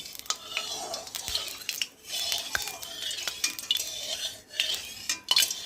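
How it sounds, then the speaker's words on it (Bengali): A metal spatula sweeps hot oil around a wok, with repeated scraping strokes and light clinks over a crackling, spattering sizzle from a little water on the utensil. "তো খুন্তি দিয়ে একটু তেলটা নেড়ে দেবো যাতে চারি গালায় লাগে।"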